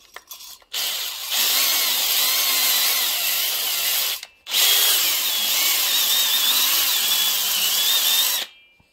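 A cylinder hone runs inside an engine cylinder, giving a loud steady whirring, grinding buzz in two long bursts of about three and four seconds, separated by a brief pause, no talking.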